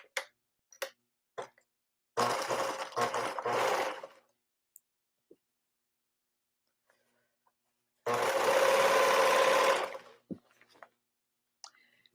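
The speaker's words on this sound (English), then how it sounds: "I'm just gonna sew them together" A sewing machine stitches pieces of men's shirts together in two solid bursts of a few seconds each, loud and close, separated by quiet pauses with small clicks and handling taps.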